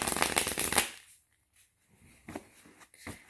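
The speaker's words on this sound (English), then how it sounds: "I do this kind of shuffling." New, slightly sticky oracle cards riffle briskly and close up for under a second, followed by quieter soft flicks and taps of cards being handled.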